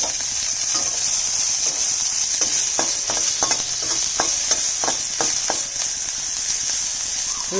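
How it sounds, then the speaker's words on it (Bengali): Crushed garlic fries in oil in a pan, giving a steady close sizzle broken by repeated sharp scrapes and taps of a stirring utensil. "মানে রসুনটা ভালো করে ভাজা হবে।"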